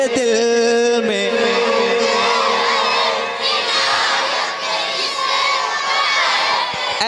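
A large crowd at an urs gathering loudly reciting a naat together, voices blending into a sustained, loud chant of many people that carries on steadily throughout.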